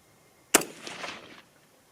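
A single sharp crack from an AR rifle fired nearby, followed by a brief decaying echo, with quiet before and after.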